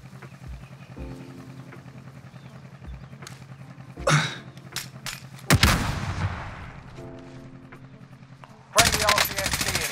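Bursts of M4A1 rifle fire ring out in a Warzone firefight, with sharp automatic volleys, some distant cracks and a loud sustained burst near the end, while players talk over the action.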